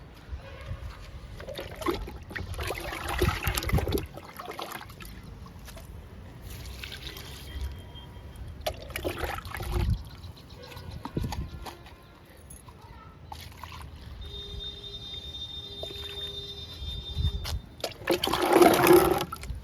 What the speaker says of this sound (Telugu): 2 మొక్కలకి లిక్విడ్ ఇద్దాము.